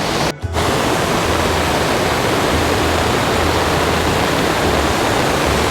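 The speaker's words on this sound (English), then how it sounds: "and then we have the discharge of all those ravines up there flowing down." Floodwater pouring down from ravines on Mount Wolvi makes a steady, loud, broadband rushing roar, continuous and close, with no voices.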